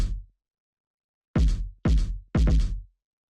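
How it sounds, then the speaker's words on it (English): A big trap kick drum sample hit three times after a short fading tail, each a deep booming thump with a quick decay, loud and dry with silence between. "So what this is it's just like a pretty big sort of trap kick."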